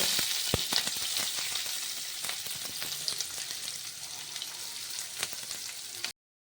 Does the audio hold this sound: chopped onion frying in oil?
yes